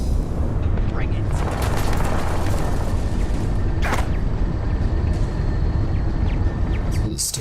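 Station turrets shooting at a ship in the video game Starfield, dense booming impacts and crackling blasts layered over a loud rumbling roar, with someone talking over the fire.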